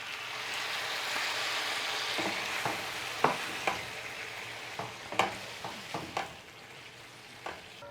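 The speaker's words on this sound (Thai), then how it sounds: "ก็ผัดให้มันเข้าทั่วถึงกัน" Beef tongue sizzles steadily while stir-frying in a hot pan, a utensil scraping and clinking against it in irregular strokes.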